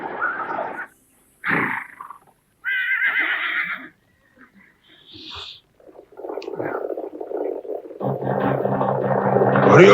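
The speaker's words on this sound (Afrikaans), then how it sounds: "Dis 'n klomp perde wat op pad is." Horses neighing and whinnying in an open landscape as a herd draws near, calls in bursts separated by short pauses, ending in a rising, sustained mix of animal noise that grows louder toward the close.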